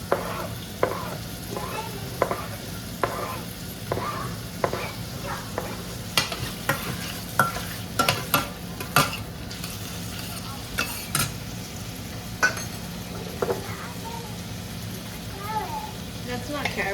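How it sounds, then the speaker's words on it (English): Chicken sizzles and fries in a home kitchen pan, with a spoon stirring and scraping in a steady rhythm; louder clanks come in the middle, and quiet talk runs faintly under it. "and then I'm gonna start frying it."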